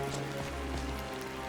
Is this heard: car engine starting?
no